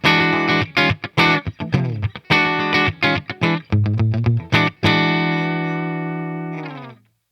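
A PRS Vela semihollow electric guitar plays a dry, funky rhythm part on the middle pickup position with the coil tap engaged and no reverb, giving choppy repeated strums that end in one chord left to ring out and fade.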